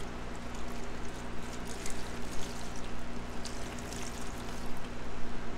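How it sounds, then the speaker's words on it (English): Water poured over a tray of radish microgreens, a continuous close splashing trickle that runs steadily for several seconds with slight surges. "We'll go ahead and pull this out and give it a good water."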